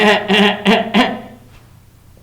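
Four quick grinding bursts imitated by a voice, like an engine turning over without starting, then a fade into quiet.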